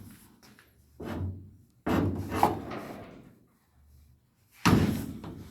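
The cab door of a 1953 Ford F100 restomod truck is worked open, giving a series of dull wooden-sounding thumps, creaks and rubs with pauses between them, close and moderately loud.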